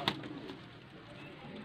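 A Faisalabad pigeon gives a brief, faint coo at the start, followed by quiet room ambience.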